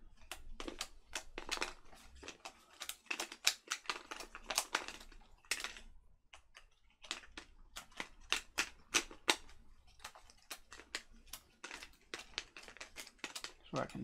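Cardboard tiles popping out of punchboards for the board game The Night Cage: a steady run of crisp snaps and clicks, close and fairly quiet, with short pauses between bursts.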